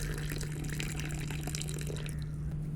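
Purple butterfly pea flower tea is poured outdoors, a steady close liquid stream with continuous splashing over a low background hum, no talking.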